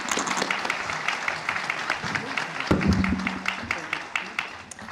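A conference audience at an AI summit claps for panelists after a discussion, with close, distinct hand claps forming continuous applause and a brief voice cutting in midway.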